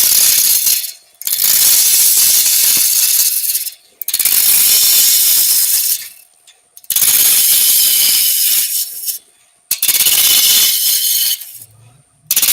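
A wood lathe roughs down a piece of timber for a vase. The gouge cuts in long, harsh, loud bursts, each broken by a short pause, close up with no talk.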